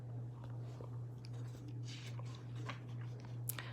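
An older man chews a roasted marshmallow beside a small campfire; soft, moist mashing and squishing sounds come in quiet bursts over a steady low hum, close and faint, with no talking.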